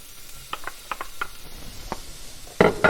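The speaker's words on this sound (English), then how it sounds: "With our oil hot, we're now going to add our onion" Onion and green pepper hit hot oil in a skillet, preceded by a few light utensil taps before a sudden loud sizzle bursts up near the end and keeps going.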